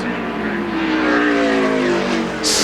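Jeff Gordon's NASCAR race car on its warm-up lap holds a loud, steady engine drone as it runs on the track, with a rising whine, and a voice speaks over it.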